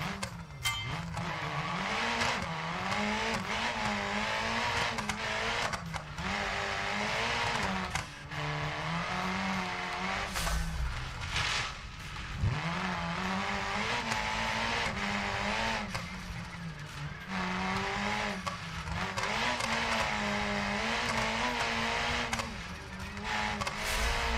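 A car revs and races in the driving game BeamNG.drive, a steady, loud engine drone rising and falling in pitch with bursts of acceleration and brief tire squeal, continuous throughout.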